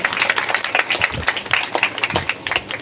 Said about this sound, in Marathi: तर जोरदार टाळ्यांनी आपण त्यांचे स्वागत करूया